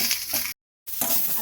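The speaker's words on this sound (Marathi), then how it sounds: "आता आपला कांदा टोमॅटो भाजून झाला" Onion and tomato fry in a pan for a potato curry, a steady close sizzle with light stirring that cuts out for a moment before resuming.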